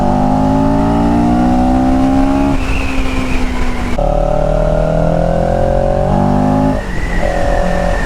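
A loud, demonic-sounding motorcycle ridden in a CFMoto road trip accelerates hard through the gears, its engine note climbing in pitch, dropping at each shift and climbing again, continuous and close with no talking.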